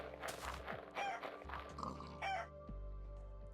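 Rooster crowing and clucking in a farming video game, mixed with short pig-like grunts, repeated calls over a low steady hum, quiet and without talk.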